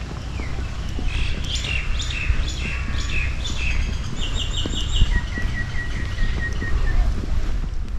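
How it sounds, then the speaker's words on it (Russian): Small birds chirp and trill repeatedly on a rocky shore of the Andaman Sea, clear tweeting phrases over a steady rushing bed of waves and wind, with no talk. "Послушайте, как поют птички."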